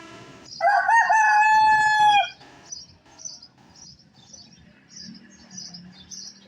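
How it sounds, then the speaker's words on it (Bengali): A rooster crows once loudly and close by in an outdoor yard in the afternoon, followed by faint chirping birds and quiet background sounds. "এই মুরগিটার সাইজ কত বড়"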